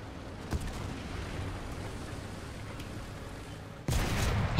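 Artillery fire in a tank video game battle with a T-34 and a 75 gun: a steady low rumble broken by one sharp thump early, then a heavier, louder broadband blast near the end.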